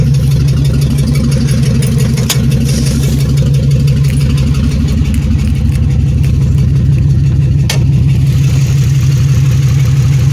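A truck engine idles with a steady, loud, low rumble, its rough pulsing rhythm suggesting a misfire, running continuously with a couple of faint clicks on top.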